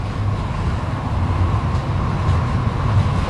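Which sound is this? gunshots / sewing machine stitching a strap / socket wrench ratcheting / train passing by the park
train passing by the park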